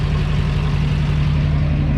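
A truck engine drones in a steady low rumble as it climbs a ramp into a shop, close and fairly loud, with no voices.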